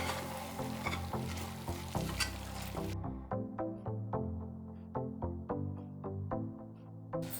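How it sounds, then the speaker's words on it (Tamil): Mint and coriander leaves being sautéed in a pan for vegetable brinji rice give a steady sizzle, with a burst of louder frying at first, then regular scraping stirs repeating every half second or so, close and alone. "ஒரு கைப்பிடி அளவு புதினா இலை, அதே அளவு கொத்தமல்லி இலை சேர்த்து ஒரு 2 நிமிஷம் வதக்கி விடுங்க"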